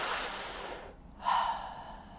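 A single breath drawn in through the mouth during a guided breathing exercise, a soft airy rush that fades, pauses, then a short sharper intake, close and alone without talk.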